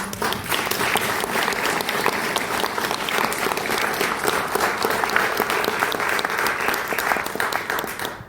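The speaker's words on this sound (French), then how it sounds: "Je vous demande d'applaudir, s'il vous plaît." Sustained applause from an audience at a commemoration of the anniversary of the abolition of slavery by the French Convention, a steady dense clapping that stays loud and even throughout, with no voices on top.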